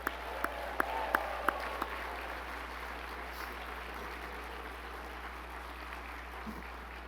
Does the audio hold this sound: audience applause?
yes